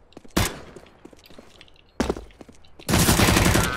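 Counter-Strike gunfire: two sharp single shots a couple of seconds apart, then a loud sustained burst of rapid automatic fire, with faint footsteps between.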